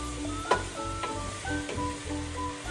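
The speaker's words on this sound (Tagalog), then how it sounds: "Halu-haluin din natin siya. Mild na halo lang para hindi madurog yung hotdog." Hotdogs sizzle steadily in a frying pan while a utensil stirs them gently, with a few light scrapes and clinks against the pan surface, close up and with no talking.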